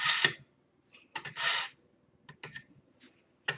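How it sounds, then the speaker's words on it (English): A kitchen knife is drawn through a multi-stage knife sharpener in short, scraping bursts, several quick grating strokes separated by pauses, close and fairly quiet. "sharpen our knife"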